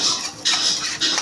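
A spoon scrapes through vegetables in a cooking pot for an onion-free curry, three close metallic swishes in quick succession, loud and alone.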